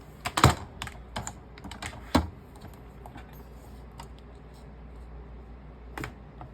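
Scissors snip off excess material while decorating a binder, a series of sharp close clicks and cuts in quick bursts, then sparser snips after a pause.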